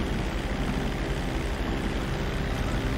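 An airplane engine in the video game GTA 5 Online holds a steady, dense droning roar, constant and loud for the whole stretch, with no talk over it.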